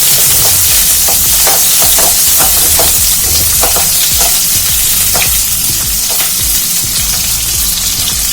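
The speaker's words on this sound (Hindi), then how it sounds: "प्याज को हल्का सा सौटे करेंगे।" Onions sautéing in a pan for soya Manchurian, a loud steady sizzle with repeated scraping stirs and clicks of a utensil against the pan, running without a break.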